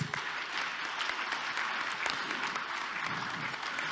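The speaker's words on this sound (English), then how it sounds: "Please give them another round of applause." Steady clapping from a sizable audience at an awards ceremony, a continuous wash of hand claps with no voices over it.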